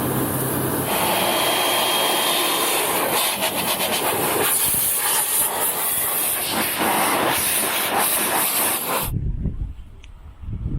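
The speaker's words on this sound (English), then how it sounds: "This is brilliant to jet blast all the water out the crevices and all the gaps" A car dryer's loud, continuous high-pressure air blast roars through a Lexus RX400h engine bay, blowing out water, for about nine seconds, then cuts off abruptly, leaving a low rumble behind.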